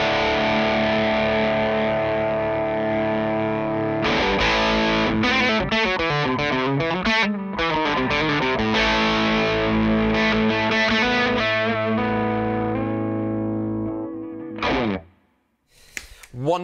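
Electric guitar played through a Hello Sailor FreeRange effects pedal with reverb switched off, giving a sustained, distorted chordal tone with a rhythmic strummed middle section, then fading out and a short pluck at the end.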